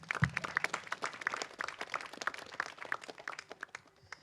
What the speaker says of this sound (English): So can we give our beautiful parents a round of applause?